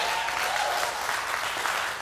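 A studio audience gives a round of applause for guests Dylan Reimer, Paul Anthony and Dirty Spells, a dense, even wash of clapping that holds steady throughout.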